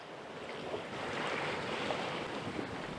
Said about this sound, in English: the Dagmar Orn's sails are filled by a 20-knot northwesterly wind